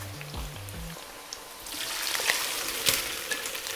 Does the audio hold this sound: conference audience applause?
no